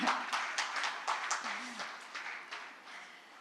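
Light clapping from a small seated audience, scattered claps in an uneven rhythm that fade toward the end, faint and not very full.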